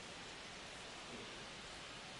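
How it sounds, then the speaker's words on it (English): Thunder rumbles through a steady rain wash at a Texas ballpark in the MLB The Show 25 baseball video game, a faint, continuous broadband roar with no clear crack, heard alone without commentary. "And listen to the thunder."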